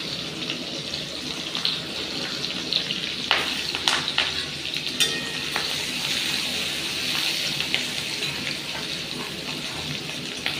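Chopped onions and green chilli frying in hot oil in a pan, a steady loud hiss with scattered crackles and a few sharp pops, no voices.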